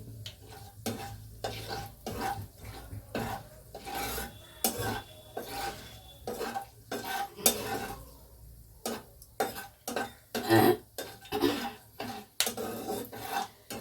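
Whole spices such as cloves and black peppercorns stirred and scraped in a hot pan for cauliflower korma, with repeated rasping spoon strokes in uneven bursts over a faint sizzle, close and with no talk.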